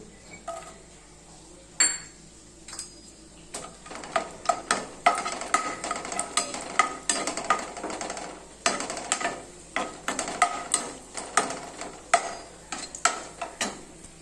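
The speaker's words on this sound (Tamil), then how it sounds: "இப்போ நான் ஒரு பேனில் நெய் விட்டுருக்கேன் இந்த முந்திரியும் திராட்சையும் வறுத்துக்கலாம்" Cashews and raisins roasting in ghee in a pan, with a soft sizzle under frequent sharp clinks and scrapes of a metal spoon stirring against the pan, close and continuous.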